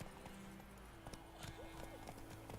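Roach, a horse in The Witcher 3 video game, clip-clops with a steady rhythm of hoofbeats close by, running under a musical game soundtrack while someone briefly speaks over it.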